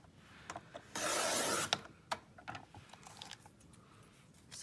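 Scissors cut a paper mail insert into half-inch strips for paper beads, giving a near, steady rustling snip of about a second, followed by scattered soft paper crinkles and small clicks.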